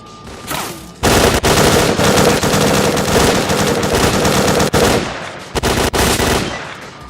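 Loud automatic fire from a machine gun in the shooter game S.T.A.L.K.E.R.: Clear Sky, in long sustained bursts with brief gaps, close and dominant, with no talking.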